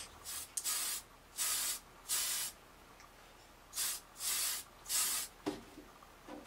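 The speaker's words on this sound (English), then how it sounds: "the spraying is done" Tamiya TS-81 Royal Light Grey aerosol spray paint hisses from the can onto a Revell USS Voyager model's nacelles in a spray booth, in six or seven short bursts separated by brief pauses, close and fairly loud.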